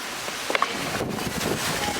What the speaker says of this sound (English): Oh, you can see how windy it is.